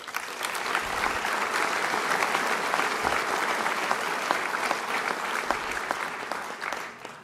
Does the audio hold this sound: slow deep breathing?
no